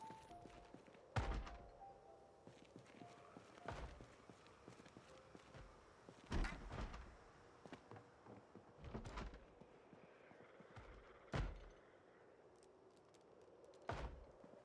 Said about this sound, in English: Someone is in the kitchen, banging on the back door